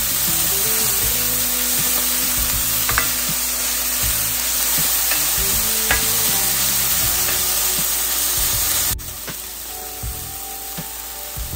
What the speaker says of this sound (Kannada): ಈರುಳ್ಳಿ ಸ್ವಲ್ಪ ಚೆನ್ನಾಗಿ ತಿರುಗಿಸ್ಕೊಳ್ಳೋಣ.